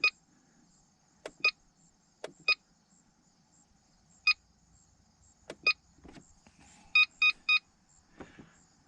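An RC hobby battery charger charging a 6500 mAh pack at 10 amps gives sharp electronic beeps, single chirps spaced irregularly, then a quick triple burst, loud and close against near silence.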